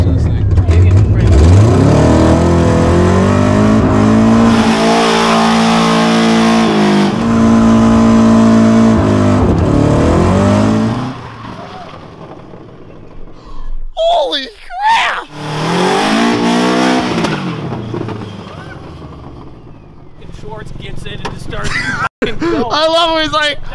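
A bright adult go-kart engine revs loud and close, rising and falling in harsh bursts before the clutch drops, then the roar thins out into a few sharp spikes and quieter stretches as people talk over it.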